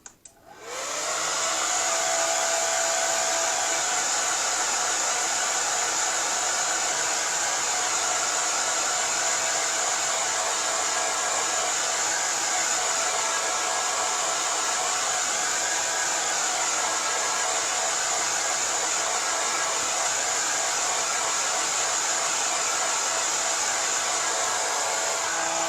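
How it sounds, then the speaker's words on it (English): A hair dryer blows steadily and loudly on acrylic paint layered on a gel printing plate, a constant close-up whoosh with a bright high hiss that runs without a break after a brief start. "Okay, hairdryer time again"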